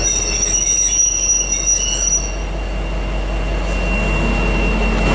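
V/Line locomotive N458 rolls past at close range, its wheels squealing in a high, sustained whine over a heavy low rumble of the moving train.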